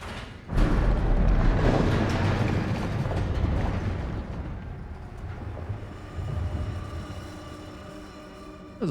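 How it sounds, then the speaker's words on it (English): A heavy explosion booms as pipes close in the video game Still Wakes The Deep, bursting suddenly then rolling into a long, deep rumble that slowly fades, with a second swell near the end. "I'm to bet most of the explosions we hear are from you closing all the pipes"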